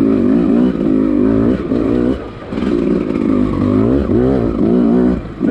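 A 2020 Beta 200rr motorcycle engine revs hard while riding, loud and close, rising and falling in repeated surges with brief dips between shifts.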